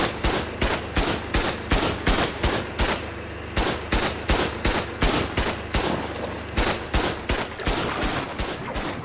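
Rapid, evenly spaced gunshots ring out in the mobile video game Ark Survival Evolved, a loud sustained volley of about two shots per second with a brief pause midway.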